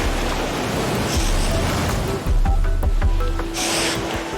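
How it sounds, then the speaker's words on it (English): Sea waves crashing on rocks churn in a continuous loud wash of surf close by, with swells rising and falling and heavier surges in the second half. "The waves are knocking me all over the place."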